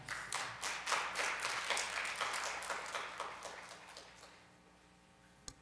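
An audience at a Digital Economy Forum 2018 closing session applauding in a conference hall: a sustained patter of many hands clapping, faint and steady, fading away over a few seconds, ending with a single sharp knock.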